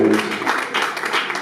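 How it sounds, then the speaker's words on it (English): Meeting audience applauding at an annual general meeting, a short burst of scattered hand clapping from a crowd, fairly steady and moderately loud. "I would like you to applaud him"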